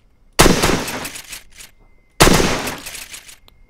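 Two loud, sharp bursts of rapid gunfire in the video game Miscreated, each a rattling volley lasting about a second, separated by a short silence.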